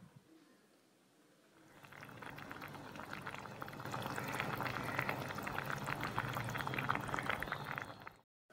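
Sardine vinegar curry simmers in a covered pot: quiet at first, then soft bubbling builds into a steady, close, crackling boil that continues until it stops suddenly at the end.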